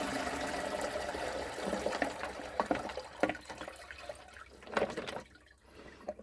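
Homemade organic fertilizer solution poured through a mesh strainer, a splashing watery flow with intermittent gurgles and drips that thins out and stops near the end.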